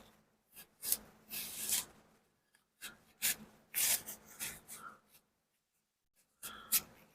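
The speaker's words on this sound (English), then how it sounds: "I'm going to have to use some of that sandpaper to reach in there." Sandpaper scrubs inside a part of an HW50s .177 air rifle in a series of short, raspy rubbing strokes, close up and quiet, with brief pauses between bursts.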